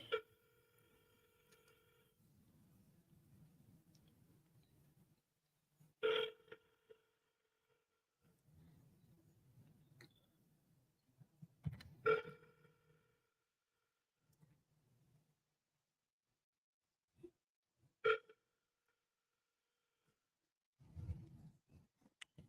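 An outgoing phone call rings with no answer: a steady electronic ringing tone repeats at regular intervals of about six seconds, with quiet murmuring in the gaps between rings.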